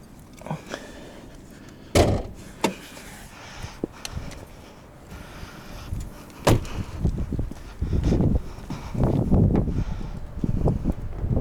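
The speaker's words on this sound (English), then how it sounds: "Hood release." Hood release and lid of a 2020 Aston Martin Vantage with a twin-turbo V8, a sharp click followed by a second latch thunk and a hollow metallic opening, with light rustling and handling noise in between.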